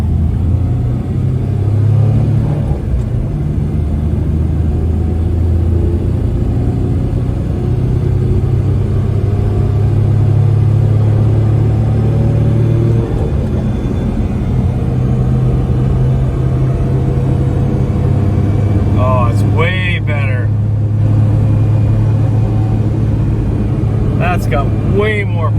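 A 2002 Suzuki Carry mini truck with a plugged exhaust drives onto a highway, its small engine droning low and steady with a buzzy hum under road rumble, while someone talks over it.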